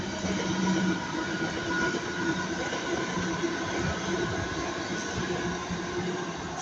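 A passenger train runs past at Ardwick station in Manchester, a steady, loud rumble of wheels on rails with faint rhythmic clatter and some squeal, continuing throughout.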